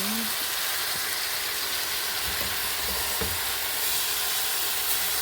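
Garlic and ginger sautéing in hot oil for a pork and chicken adobo, giving a continuous close, bright sizzle and hiss with faint scraping in the pan throughout.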